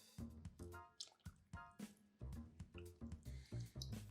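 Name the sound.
heavy cream being poured into soup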